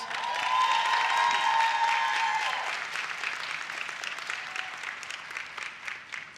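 An audience at the Montgomery College student academic excellence awards ceremony applauds an honoree. The clapping is strongest at first, then thins and fades toward the end.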